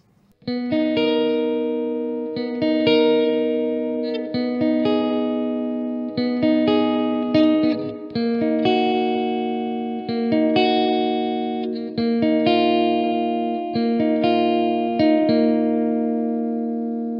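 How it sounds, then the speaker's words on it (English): Clean electric guitar through an amplifier, chords strummed in a steady rhythm with ringing sustain and light shimmer, played alone at moderate volume. "let's see how good of clean tones we can get out of this guy."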